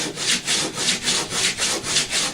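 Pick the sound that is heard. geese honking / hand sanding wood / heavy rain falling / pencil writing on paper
hand sanding wood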